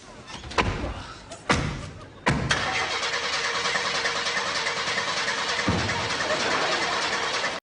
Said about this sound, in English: turns the key, and the car won't start